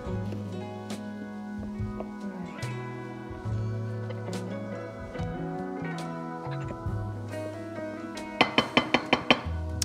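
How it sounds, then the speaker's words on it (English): Chocolate cake batter is stirred in a bowl, making soft, quiet scraping and clinking that ends in a quick run of sharp taps against the rim, with no talking. "And we're going to give that a good stir."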